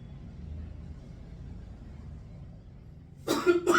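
After a stretch of low background rumble, two quick, loud coughs burst out near the end, close up.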